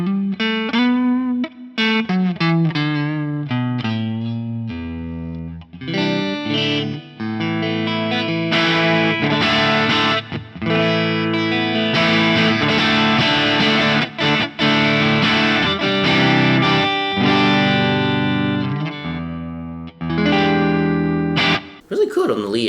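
Electric guitar played through an Axe Fx III modeling the Bludotone Ojai amp on its lead channel with reverb, mildly overdriven single notes and chords ringing out with a lush, spacious tail across a long, continuous passage.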